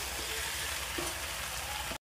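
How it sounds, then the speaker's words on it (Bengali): Potato and bottle gourd stir-frying in a pan, an even, faint, steady sizzle with low rumble underneath, cutting off abruptly near the end. "এবারে আমি আলুটা দিয়ে নেব, দিয়ে খুব ভালোভাবে আরেকবার কষিয়ে নেব"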